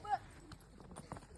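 Horse hooves clip-clop in a few quick, faint knocks as riders change horses while visiting homes during the Tsagaan Sar holiday, and a voice speaks over them.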